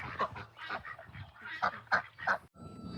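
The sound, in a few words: guinea fowl calling in chicken coop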